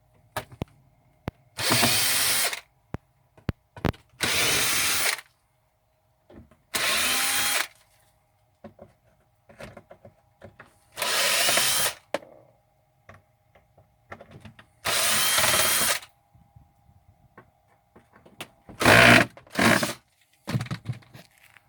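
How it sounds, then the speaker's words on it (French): A power screwdriver backs screws out of the front partition panel of a London-style taxi in roughly eight separate bursts of a second or so each, with short quiet pauses between them. "on enlève toutes les vis"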